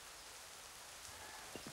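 Rain in the video game Assassin's Creed III, a soft continuous hiss of falling rain, faint and even, with a couple of brief fainter sounds near the end.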